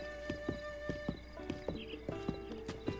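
Horse hooves clip-clop at a steady trot while riding in the video game Breath of the Wild, a quiet, regular pattern of hollow thuds over a low ambient hum.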